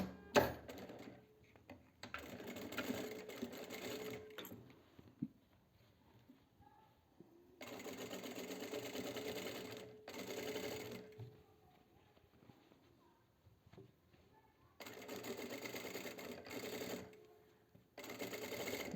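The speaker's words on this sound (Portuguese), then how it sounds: "vou fazer uma costurinha agora, puxando tudo pra cá, ó, pro lado do forro" A domestic sewing machine stitches a midi dress seam toward the lining in three separate bursts of rapid, even whirring, with quiet pauses between runs.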